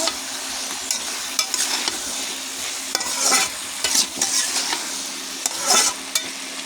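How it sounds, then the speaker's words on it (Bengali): Hilsa fish curry with potato and green banana being stirred and fried in a pan with chili powder, a steady sizzle broken by repeated scraping spatula strokes, close and fairly loud, no talking. "আবারও ভালো করে নেড়ে দেবো। লাল লাল করে ভেজে নেব।"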